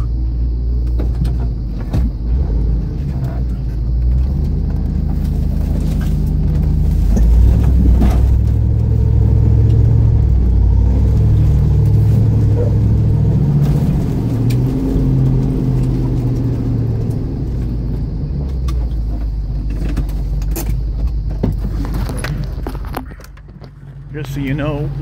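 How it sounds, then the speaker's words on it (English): A Range Rover P38 climbs over rocks off-road, its engine rumbling low and steady with loud rough noise and a dip near the end. "let's see if I can drive up this thing"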